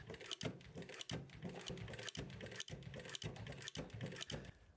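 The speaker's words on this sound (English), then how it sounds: "It is an industrial sewing machine, and it is outfitted here with a specialty leather needle and a thick thread." A Pfaff industrial walking foot sewing machine, fitted with a leather needle and thick thread, stitching through thick vegetable tan leather. It makes a quiet, rapid mechanical clatter in a steady pulse, with brief pauses between bursts.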